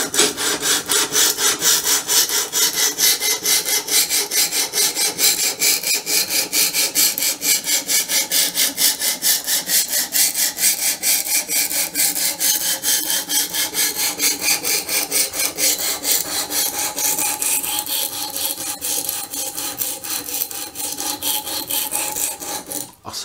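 A homemade knife blade is drawn across a CBN80 stone on an Ermak 10 guided sharpening system set to 15 degrees: steady, rhythmic rasping strokes repeat close up, alone, easing slightly near the end.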